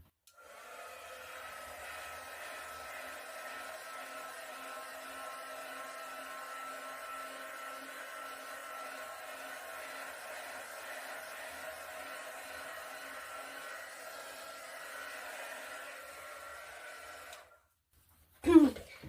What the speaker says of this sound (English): I'm just going to hit it quick with a heat gun.